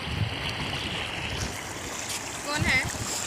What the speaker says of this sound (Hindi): और गाइस पानी का आवाज़ आ रहा था, वहाँ मस्त आवाज़ आ रहा था।